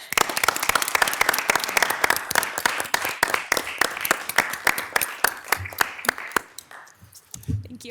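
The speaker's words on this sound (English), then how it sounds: "I think we definitely should give you a round of applause for this" Applause for a city clerk at a city council meeting, a dense burst of clapping that thins into scattered claps and fades out near the end, with a voice briefly heard as it dies down.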